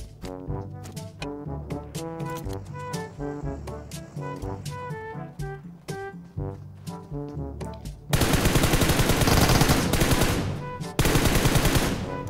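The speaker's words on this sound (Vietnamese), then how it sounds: "Dù sao thì mình cũng cầm khẩu Uzi và M4 thì bắn cũng khá là ổn áp." In the mobile shooter game PUBG Mobile, tonal game music plays before Uzi and M4 automatic gunfire breaks out loud and dense, a sustained rapid burst with a brief gap before resuming.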